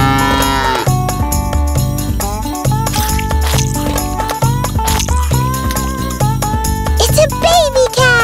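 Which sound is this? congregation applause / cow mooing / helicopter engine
cow mooing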